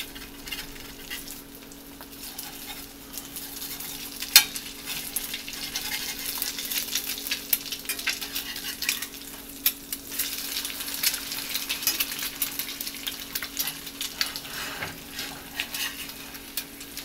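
Eggs frying in a cast iron skillet give a steady, close sizzle and crackle with scattered pops and an occasional faint clink of a utensil, continuous throughout.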